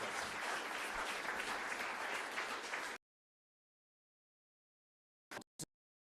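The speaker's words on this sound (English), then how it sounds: "give them a big round of applause too" Audience applause at a National Party policy announcement, a dense, steady wash of clapping for about three seconds that cuts off abruptly, then two brief isolated bursts after silence.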